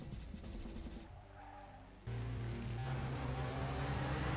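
A motorcycle from the film Dredd roars loudly with a deep, steady engine drone, joined by skidding tire noise and a sudden jump in volume midway.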